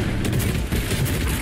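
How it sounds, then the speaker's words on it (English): Cannon fire in Fortnite, a rapid burst of heavy booming blasts tumbling over one another, loud and close with a deep rumbling low end and no talk over it. "Yeah, just shoot the cannon at him."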